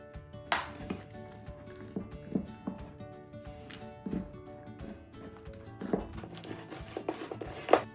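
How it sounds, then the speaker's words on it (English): A fork mixes banana bread ingredients in a bowl, giving irregular scraping and tapping clicks at close range, some sharper than others, with no talking. "We want to mix it up with a fork and blend it all together."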